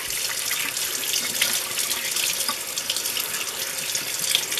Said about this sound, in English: All right, let's just rinse it off.